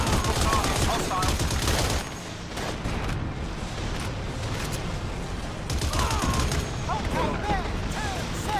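Rapid bursts of gunfire crackle through a busy military shooter game demo, with shouted radio-style callouts from soldiers over the shots and dense battlefield noise throughout.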